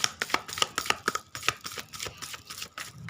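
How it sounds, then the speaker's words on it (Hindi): Tarot cards being shuffled make a quick run of crisp, irregular slaps and riffles, close and fairly soft, repeating several times a second with no speech. "चलिए कार्ड को मिक्स करूँगी मैं आपके सामने"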